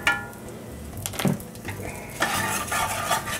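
Chili powder and thyme stirred into hot fat in a pan for New Orleans BBQ shrimp, with a spoon scraping and clinking against the pan in uneven strokes over a soft, steady sizzle, close by and without talk.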